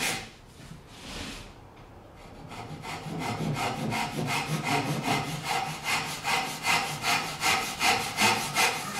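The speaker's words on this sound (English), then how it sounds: "Use the dozuki to cut the sides of the mortise." A Japanese dozuki pull saw cuts the sides of a wood mortise in a workpiece clamped to a workbench, giving steady, rhythmic rasping strokes, close and fairly loud, roughly two per second after a brief pause.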